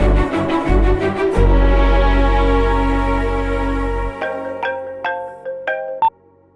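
A phone ringtone rings on unanswered, a loud tonal melody over a low hum that gives way to a few sharper chiming notes before cutting off.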